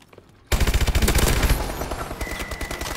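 Shotgun fire in Call of Duty Advanced Warfare erupts suddenly after a quiet moment, a dense, loud burst of rapid booming shots that then trails off into lighter rattling.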